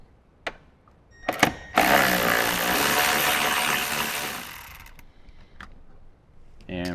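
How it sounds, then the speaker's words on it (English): A tool spins out a 10mm bolt on a 2010–2024 Toyota 4Runner while a skid plate is installed, a sustained whirring run of about three seconds that fades out, framed by a few sharp clicks and knocks. "now we can remove the 10mm bolt"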